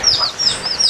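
Newly hatched chicks in a yard in Haiti give several repeated high, thin peeping calls at close range, with no talk.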